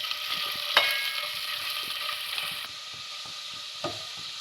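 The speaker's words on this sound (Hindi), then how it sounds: "इसको ऑयल में इसको मिक्स हल्का सा फ्राई करेंगे" Onions frying in oil in a pan to golden brown for chicken paratha rolls, a close, continuous sizzle with occasional scraping stirs and a couple of sharper clinks.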